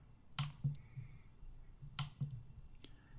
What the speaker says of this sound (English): We can change between the sheets by clicking on each of them here.